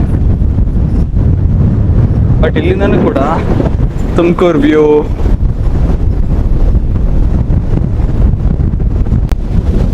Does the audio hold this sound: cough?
no